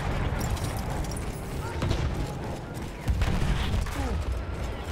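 Heavy battlefield noise from Battlefield 1, with mortar blasts and scattered gunfire in a dense, continuous din that swells near the end, while a voice talks underneath.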